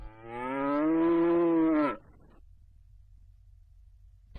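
A single long, loud moo from a cow at a livestock farm, rising and holding for nearly two seconds before cutting off into quiet background.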